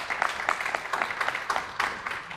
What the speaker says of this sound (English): give them a round of applause for just being who they are as people